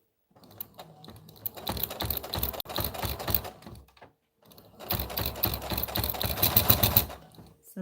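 A sewing machine running back stitches and forward stitches, heard as two close, busy bursts of rapid mechanical stitching separated by a brief pause, with no talking.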